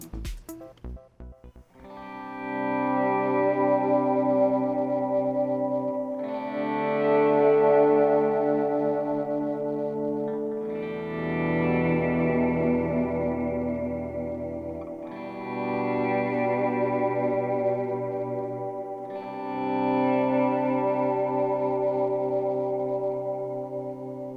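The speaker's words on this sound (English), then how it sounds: "two delays with one going into the other, just like stacking drive pedals" Sustained electric guitar chords ring out through two delay pedals chained one into the other, five long swelling chords over about twenty seconds with washy, layered repeats blurring into each other, played alone.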